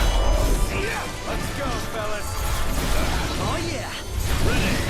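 Crunching smashes and thuds fill a dense, busy stretch of combat audio as an enemy's corpse is battered in Final Fantasy XV, with whooshes and mechanical clatter layered throughout and game voices mixed in.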